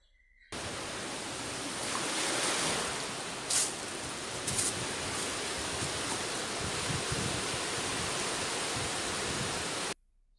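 A steady broadband wash of surf rolls on for several seconds, loud and continuous, with a couple of brief brighter splashes, then cuts off abruptly.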